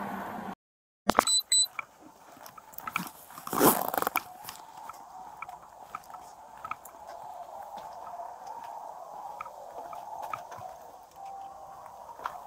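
Dogs bark near a police arrest for burglary and fraud in Martin County, with a few sharp bursts early on that then fade into a low, steady outdoor background.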